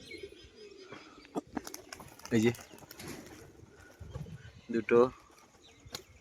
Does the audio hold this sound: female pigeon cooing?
yes